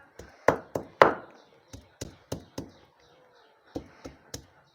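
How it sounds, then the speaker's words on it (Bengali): Ginger and a little cumin are ground by hand on a stone, giving a series of sharp pounding knocks, a few heavier ones early, then lighter evenly spaced strikes. "আদা আর সামান্য একটু জিরে বেটে নেব"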